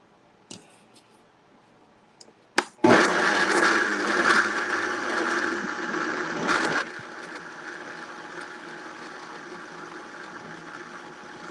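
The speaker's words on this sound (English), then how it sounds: "This is a Vitamix that I'm using." Vitamix blender mixing a vegan oxtail mixture, starting after a few clicks and knocks with a loud, roaring whir that drops to a lower, steady hum after several seconds and runs on alone.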